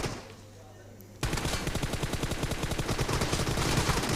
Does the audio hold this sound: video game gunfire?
yes